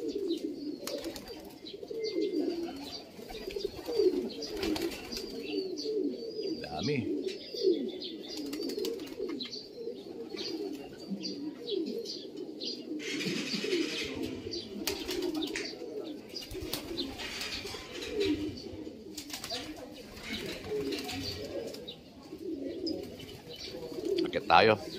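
Pigeons cooing in a steady chorus inside a loft, with soft low coos layered densely, occasional faint chirps, and a brief voice speaking.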